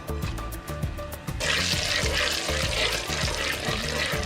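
Garam masala fried in chicken-flavoured oil for chicken capsicum crackles under a rhythmic, steady knocking, then the sizzle swells into a loud, dense hiss that holds to the end, with no voices.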